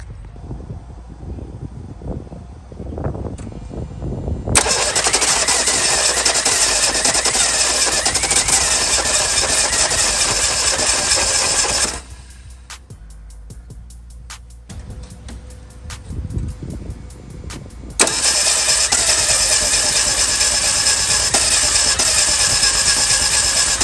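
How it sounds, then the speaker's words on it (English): Old Ford Mustang that sat for 30 years, its engine cranking hard in two long loud bursts with a quieter pause between, trying to start but not catching. "Alright guys, it's trying its best to start."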